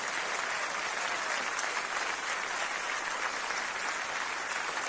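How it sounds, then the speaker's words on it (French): Continuous applause fills the hall after a children's turn at a French comedy show, with dense, uniform clapping held at a steady level for about five seconds and no speech. "Ah ben les applaudissements."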